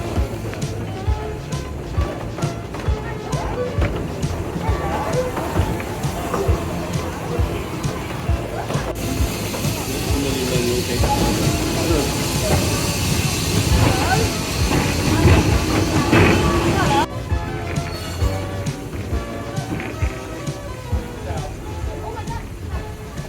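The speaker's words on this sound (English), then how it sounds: "The reason you can hear so many squeaks is because the train was braking down a hill all the time we were going." A heritage train on the Foxfield Railway rolls downhill under braking, giving steady rumbling and clattering with a hissing wash and scattered brake squeaks throughout, at close range, with voices mixed in.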